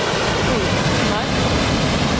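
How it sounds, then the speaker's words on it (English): A waterfall in Tasmania pours with a steady, loud rush of water, a dense broadband roar that fills the whole moment. "Impressive waterfall."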